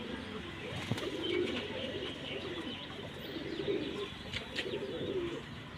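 Domestic pigeons coo softly in a loft, with a few low, rolling coos repeating at intervals over faint background noise and occasional light clicks.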